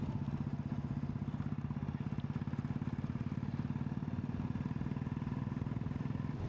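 A Royal Enfield Classic 350 motorcycle on the road gives a steady, evenly spaced thumping engine beat, loud and close, with constant wind and road rumble beneath it throughout.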